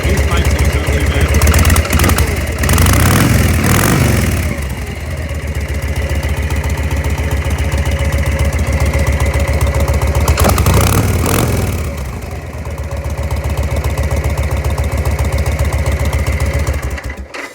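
A 1999 Victory V92 motorcycle engine idling close by, a loud, steady, deep throbbing rumble with a slight rise and dip in revs, with someone talking over it at times.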